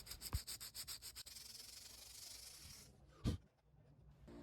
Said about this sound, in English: use some low grit sandpaper to smoothen down the rough patches